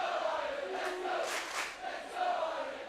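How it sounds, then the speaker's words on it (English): A boys' team cheers from the sidelines at a women's junior ultimate frisbee match between Italy and Ireland, a distant crowd roar that swells and dips. "You hear in the background the Irish boys team cheering on their fellow ladies."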